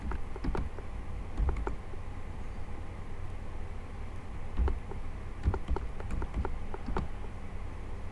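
Keys tapped on a computer keyboard in scattered bursts of clicks with pauses between, fairly close, over a low background hum.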